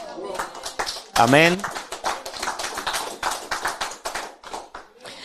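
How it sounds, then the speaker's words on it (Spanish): Members of a Spanish-speaking church congregation clap in praise, scattered quick hand claps popping in a busy patter while voices call out and talk over them throughout. "Dale un aplauso al Señor."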